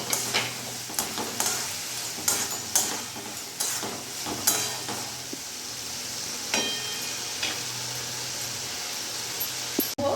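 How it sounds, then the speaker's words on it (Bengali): Masala and chopped tomatoes fry in hot oil with a continuous sizzling hiss, punctuated by irregular scraping clicks of a spoon stirring against the pan. "এবার ভালো করে আমি কষিয়ে নেব।"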